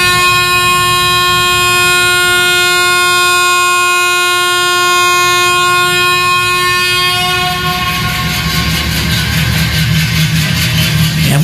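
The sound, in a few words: train departing, sound effect in audio story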